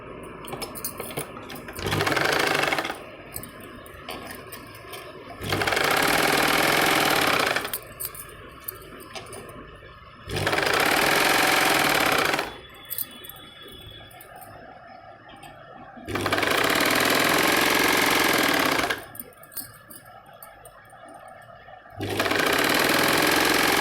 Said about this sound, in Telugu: ఇలాస్టిక్ కుట్టడానికి